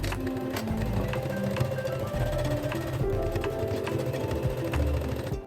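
Close, rapid mechanical chatter of a sewing machine joining kimono dress pieces, running steadily without pause and without speech.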